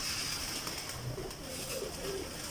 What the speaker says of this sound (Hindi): और ये कबूतरों को दाना डाल रहा है।